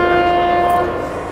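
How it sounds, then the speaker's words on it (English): A demolition warning siren sounds before the explosive demolition of the Red Road Flats tower blocks: a loud, steady horn-like tone holds for under a second, then fades into a lingering drone. "that's the siren that has just gone off now"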